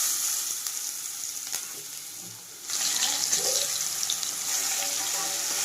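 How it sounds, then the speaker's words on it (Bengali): Potatoes fry in the same oil just used for fish, a dense, loud sizzle that surges sharply partway through and then holds steady and close, with no voices. "এবার এক এক করে আলুগুলো ওই একই তেলে ভেজে নেব।"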